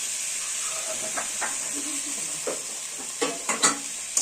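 Sautéed chana masala with boiled potatoes is stirred in a hot pan, a steady sizzling hiss broken by a few soft scraping stirs near the end.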